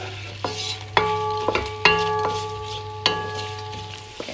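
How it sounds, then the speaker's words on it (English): Onions sizzle steadily in a pan alongside whole garam masala and bay leaf, with a spoon stirring and clanking against the metal several times over the constant frying hiss. "just the onions are sizzling for a bit, so just stirring that"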